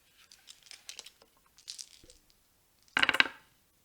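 Dice tumbling in a handmade wooden dice tray: soft scattered clicks and small knocks, then a final close burst of clattering rolls that settles into silence.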